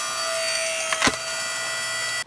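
A Harbor Freight 5 ton hydraulic log splitter works through wet, green pine, a steady mechanical drone with a sharp crack of wood splitting near the middle, then the machine cuts off abruptly.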